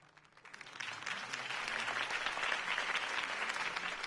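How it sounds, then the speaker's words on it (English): Crowd applause from a political campaign rally in the Batman Telltale Series video game, swelling quickly into a dense, sustained roar of many clapping hands that holds steady. "could have heard that applause"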